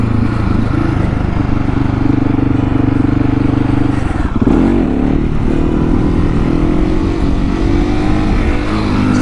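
A motorcycle drones loudly and steadily on a rough road, its engine note shifting and briefly surging partway through as it works through second-gear wheelies, close and continuous.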